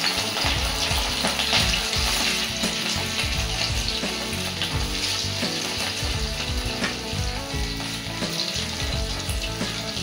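Fish pieces for chilli fish go into hot frying oil, setting off a loud, dense sizzle and crackle that continues steadily and close throughout, with no voices.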